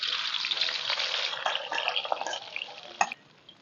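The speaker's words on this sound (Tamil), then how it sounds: "சட்டி காஞ்சதுமே இப்போ நம்ம வெட்டி வச்ச வெங்காயத்தை நல்லா கோல்டனாக ஃப்ரை பண்ணி எடுத்துக்கலாம்" Chopped onions frying golden in hot oil in a pan, a steady close sizzle and crackle that thins out toward the end, with a sharp clatter near the finish.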